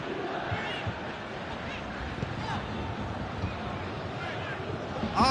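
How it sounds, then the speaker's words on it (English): A stadium crowd in the PES 2021 football video game roars as a steady, dense wash of cheering and chanting throughout, swelling slightly near the end. "Crowd calling for him to shoot."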